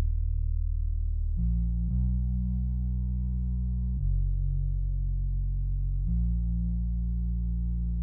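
Heavy, gritty bass synth from Morphin on the BAS B3 Bass FG preset, playing sustained low notes that change pitch about every two seconds, loud and alone.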